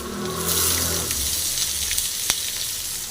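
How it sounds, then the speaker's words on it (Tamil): Onions fry in hot oil with mustard seeds, curry leaves and crushed garlic for ridge gourd poriyal, giving a close, steady sizzle with light stirring taps and one sharp click near the end. "வெங்காயம் சேர்த்துட்டு நல்லா ஃப்ரை பண்ணிங்க நல்லா ஃப்ரை ஆகட்டும்"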